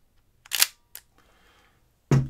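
A Leica R8 film camera fires its shutter at 1/60 second, a soft, well-damped click pair followed by a faint whir, with another louder mechanical snap at the end, close and quiet.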